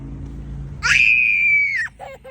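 A little boy lets out a single long, high-pitched scream at close range, held steady for about a second before breaking off into a couple of short trailing yelps over a low indoor hum.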